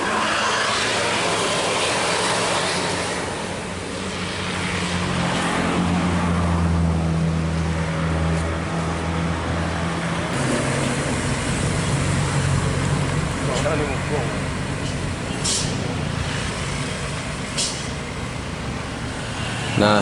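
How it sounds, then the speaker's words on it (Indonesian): A large double-decker intercity bus rumbles past on a road, its engine drone rising and fading amid steady traffic noise, with a few brief higher squeals near the end. "bus KMS Double Decker telah melewati wilayah KTK menuju Jakarta dan sekitarnya"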